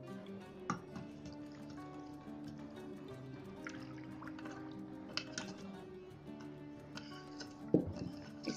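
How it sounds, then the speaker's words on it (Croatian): Water and sugar go into a pot for syrup, with quiet drips, a small liquid pour and light clinks of the pot, all faint and close with no talking. "Dodamo šećer i vodu."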